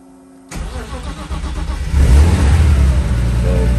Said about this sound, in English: So car starts and runs great,